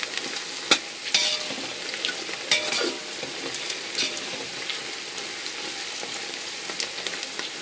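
Onions fry in oil with whole spices including cloves and cinnamon for chicken biryani, a soft steady sizzle with scattered clinks and scrapes of a stirring spoon, close and fairly quiet.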